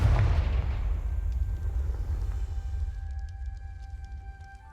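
A Confringo fire spell explodes in Hogwarts Legacy, a loud, deep blast right at the start that rolls into a long, fading rumble with faint magical tones lingering at the end.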